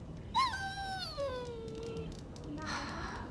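A dog in Dragon Age: Origins lets out a high, drawn-out whine that slides downward, followed by a short second whimper, fairly close over a low background hum.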